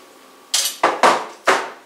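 Pressure cooker grabbed and set down on a kitchen counter, producing four sharp, close metallic knocks and clunks in quick, uneven succession after a quiet moment.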